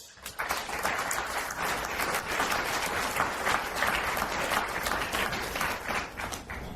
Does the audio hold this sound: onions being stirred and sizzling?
no